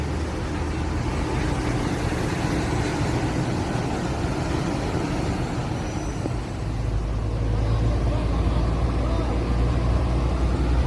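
A green bus pulling out of a bus terminal, its engine a low continuous rumble amid surrounding traffic noise, loud and close, with a brief dip midway before the drone resumes.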